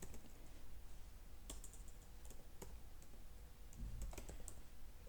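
Keys clack on a computer keyboard in quick, irregular bursts of sharp clicks, quiet and close, with no talking over them.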